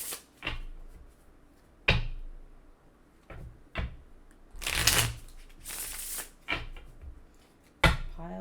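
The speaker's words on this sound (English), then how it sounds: "And we'll get to shuffling." Tarot cards being shuffled in bursts, quick riffling rustles and soft slaps coming close and crisp, separated by short quiet pauses, with no talking.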